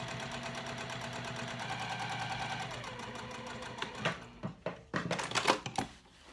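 Sewing machine running a long continuous stitch along a marked line on a mini box tote, steady rapid whirring for about four seconds, then stopping into a few separate clicks and handling knocks close by.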